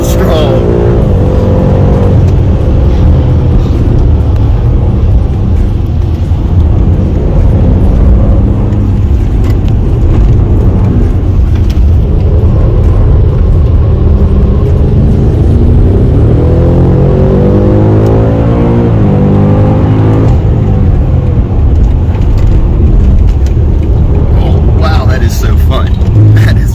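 A BMW M5 Competition laps the VIR Patriot Course, its engine droning loud and continuous inside the cabin, rising and falling through gear changes, with people talking over it throughout.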